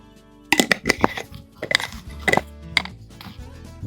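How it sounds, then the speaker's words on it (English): A spoon knocks and scrapes against a pot of Cajun 16-bean soup with bay leaves, a run of sharp metallic clinks and taps in an irregular rhythm, close and fairly loud with no talking. "Going to give that a stir."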